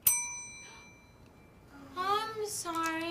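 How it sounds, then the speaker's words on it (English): A bright ding from a clock bell rings out sharply at the start and decays over about a second, followed by a quiet pause before a voice talks and babbles. "the researcher manipulates the clock so that it rings before Alana finishes the puzzle"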